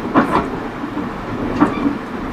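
Inside a moving Rail Runner passenger train: a steady low rumble with rhythmic clickety-clack wheel beats over rail joints, loud and close, no talking.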